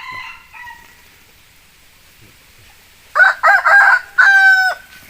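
A young rooster crows loudly and close by, a broken multi-part call after a quieter stretch with a few faint clucks earlier.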